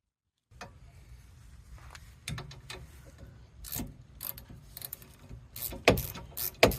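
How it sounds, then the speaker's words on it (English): Ratchet wrench clicking while a 2017 Chevrolet Malibu's brake pads are replaced, a series of close, irregular mechanical clicks and clatter building toward louder bursts near the end. "Ratchet."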